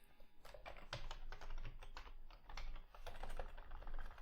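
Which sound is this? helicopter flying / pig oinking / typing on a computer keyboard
typing on a computer keyboard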